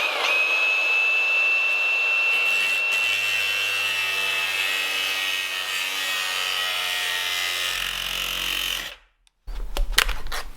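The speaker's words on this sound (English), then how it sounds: "So I'll get my grinder out and we'll cut along this line." An angle grinder cuts along a marked line in a panel during restoration of a Ford Escort RS Cosworth, a loud continuous high whine with steady scraping for about nine seconds before cutting out, followed by a few brief clatters.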